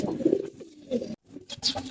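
A pigeon, kept for racing, coos in a low soft murmur, close by, with a brief pause and a faint higher chirp near the end.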